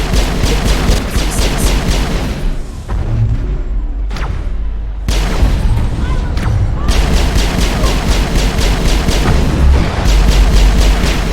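Rocket launcher fire and explosions in the video game Mass Effect: loud, dense bursts of rapid gunfire with heavy booming blasts, a brief lull midway before the barrage resumes and continues to the end.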